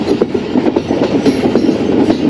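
Allama Iqbal Express rolling and easing its speed past a station, heard from on board as a loud continuous rumble with rhythmic wheel clacks on the rails, no talking.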